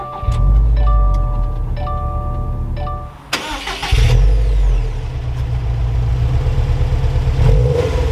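A 2021 Subaru WRX STI Limited with a manual gearbox cranks for a few seconds, fires up with a sharp rev, then settles into a steady, rumbling idle, close and clear.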